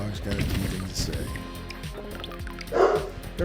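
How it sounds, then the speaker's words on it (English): A small puppy yips and barks in short bursts, close and fairly loud, over background game sounds. "the baby puppy just got up"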